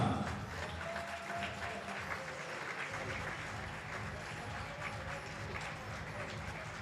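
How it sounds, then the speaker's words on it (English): Applause from a tournament crowd honouring volunteers and staff at a NORCECA men's volleyball final, steady broadband clapping sustained throughout at moderate level with some crowd noise beneath. "Applaudissons-les chaleureusement."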